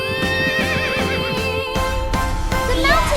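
A cartoon pony gives a loud, wavering neigh over a bright musical score with hoof clip-clops, the whinny rising and falling in pitch across the whole short stretch.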